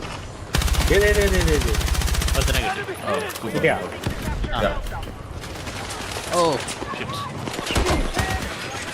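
Rapid automatic gunfire rattles loudly in Battlefield 6 for about two seconds, followed by further shots under excited players' voices talking over the match.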